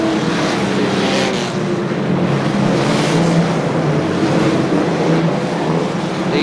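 Big-engined Super Rod hot rods lap the slippery Ipswich circuit at a 1978 British Championship meeting, a steady broad engine roar with wind-like rush running unbroken throughout, moderately loud and somewhat distant.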